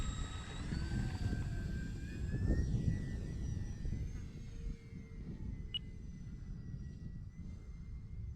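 A Flite Test Grumman G44 Widgeon RC model plane flies over Crooked Lake, its thin electric motor whine sliding in pitch as it passes at a distance over a rumbly outdoor background.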